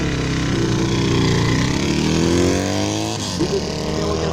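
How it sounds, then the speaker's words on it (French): A PAJ Yamaha 690 motorcycle, built in 1981 from an XS 650 SE, roars loud and close, its engine note climbing and falling through revs with a buzzy harmonic tone as it passes. "On va les retrouver tout simplement sur le PAJ Yamaha 690. Moto préparée à partir d'une XS 650 SE en 1981"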